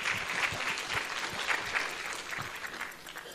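Steady, moderately distant applause fills the hall at a medical school graduation ceremony, a dense even patter of many hands that tapers slightly toward the end.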